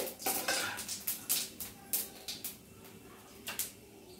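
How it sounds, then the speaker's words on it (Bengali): Cumin seeds stirred in a pan with a utensil, a series of sharp metallic clinks and scrapes in uneven rhythm, close and moderately loud, with no talking. "জিরেটা 1 মিনিট নাড়াচাড়া করে"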